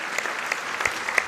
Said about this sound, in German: Also dafür gibt es Applaus.